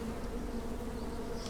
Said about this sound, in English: Lots of bees, lots of bees.